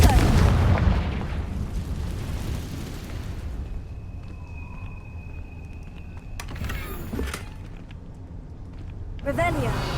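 Explosive spell blasts go off in the video game Hogwarts Legacy: a heavy booming burst opens, followed by quieter rumbling ambience, sharp crackling hits and a later burst, with voices shouting amid the action.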